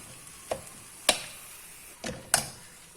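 A crunchy vegetable snack mixture is stirred in a pan, with four distinct scraping knocks spaced irregularly over a soft background hiss; quiet and close, with no talking.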